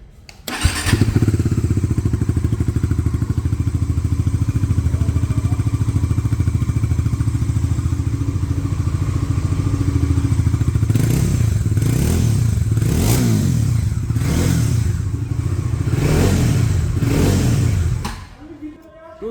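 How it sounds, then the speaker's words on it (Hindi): A Bajaj Dominar 400 motorcycle starts up close by and settles into a loud, steady idle, then throbs through a series of rhythmic throttle revs before the engine cuts off. "अब स्टार्ट करते हैं डोमिनार 400 को।"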